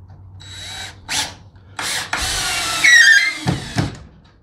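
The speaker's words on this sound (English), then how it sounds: "So I can just go ahead and drill it." A power drill whirs in several short bursts, then runs longer, straining as it drives a screw through a pre-drilled hole for shed shelving, with brief rattles between the pulses.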